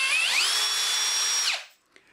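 AEG BSB 18 CBL 18V cordless drill spinning up, holding a steady high whine for over a second, then winding down on trigger release, close and loud with no talk.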